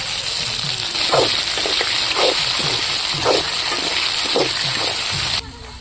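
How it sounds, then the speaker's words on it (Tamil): Onions and tomatoes are sautéed in a pan for sorakkai (bottle gourd) chutney, giving a continuous sizzle with soft repeated scraping and stirring strokes, close and steady, then cutting off abruptly near the end. "பச்சை வடை போகிற அளவுக்கு நல்லா வதக்கிங்க"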